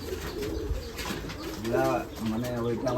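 Pigeons coo in soft, repeated throaty calls against a noisy background, with some voices faintly mixed in.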